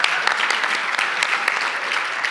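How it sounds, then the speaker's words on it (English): A pitch and demo day crowd claps in a brisk, even round of applause, loud and close, with no voices over it for the full couple of seconds. "So please, round of applause for the audience."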